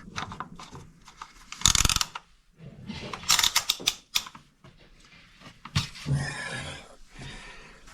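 An oil filler cap is screwed back onto a Hyundai Elantra engine, making close ratcheting, clicking twists in short bursts separated by brief pauses.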